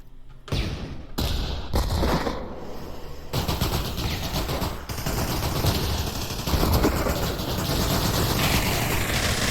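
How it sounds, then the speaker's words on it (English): Dense, continuous video game gunfire in a VR League match, with rapid automatic bursts and heavy thuds, loud and sustained without pause. "Lots of gunfire going on."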